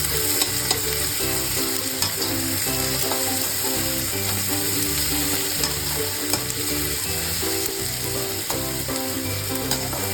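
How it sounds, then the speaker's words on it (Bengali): Onions with salt frying in a pan for samosa filling, a loud continuous sizzle with rhythmic spatula stirring and scraping throughout, close up. "পেঁয়াজটাকে কি লাল করে ভাজতে? হ্যাঁ, একটু লাল ভাজতে হবে"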